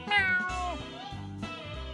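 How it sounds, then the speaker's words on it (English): Gary the snail from the SpongeBob SquarePants Movie PC game lets out a short, close, clear meow, followed by a couple of softer mewing sounds. "Meow."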